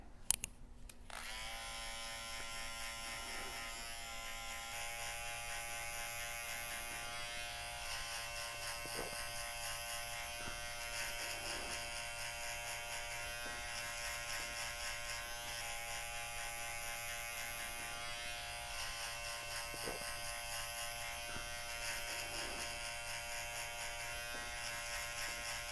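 An electric hair clipper hums in a steady, even buzz throughout a bald fade haircut, close and fairly quiet, with faint light ticks and no talking.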